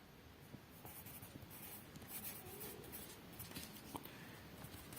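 A title being handwritten on paper, pen scratching in steady continuous strokes across the page, close and quiet, with no talk.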